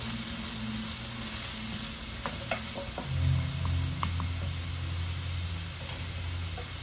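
Shrimp sizzling and frying in a pan for shrimp and grits, a steady hiss with brief stirring clatters and a swelling burst of louder frying midway.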